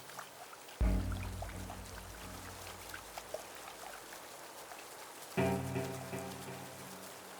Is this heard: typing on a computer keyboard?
no